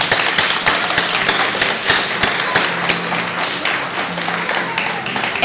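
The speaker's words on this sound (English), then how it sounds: "let's give everyone a round of applause" A crowd at a high school military recruiting event claps loudly, with dense, rapid applause and crisp individual claps running continuously; faint background voices mingle beneath it.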